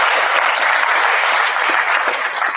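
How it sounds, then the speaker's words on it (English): Dense, steady clapping from a seated audience at a National Junior Honor Society induction ceremony, sustained applause throughout without speech. "Give yourself a round of applause,"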